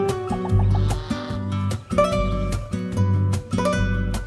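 Chickens on a farm where bantam and tall Shamo breeds are raised cluck close by, with repeated rhythmic calls running over a steady, loud, tonal background hum.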